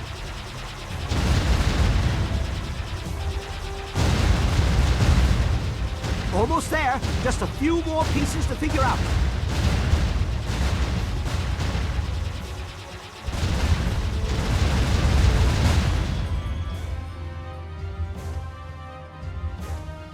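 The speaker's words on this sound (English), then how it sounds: "Lots of explosions" Explosions and gunfire-like blasts sound during a flight sequence in the Jade Empire video game, heavy booming bursts in several loud waves with brief lulls, while a voice speaks over the barrage.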